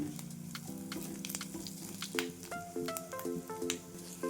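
Sliced potatoes and chopped onion fry in a pan for a spiced potato bhaji, a crackling sizzle under short scraping and stirring strokes and small metallic clinks that grow more frequent toward the end.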